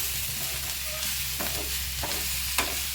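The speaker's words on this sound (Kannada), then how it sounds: "ಚೆನ್ನಾಗಿ ಎರಡು ನಿಮಿಷ ನೀಟಾಗಿ ಮಿಕ್ಸ್ ಮಾಡ್ಕೊಳ್ಳಿ" Guava chutney with rock salt is stirred in a pan for two minutes, with a steady close scraping and soft sizzle and a few sharper spoon strokes against the pan. No voices.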